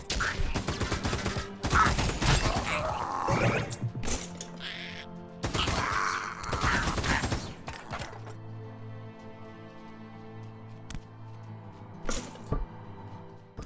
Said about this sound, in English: I should try out my submachine gun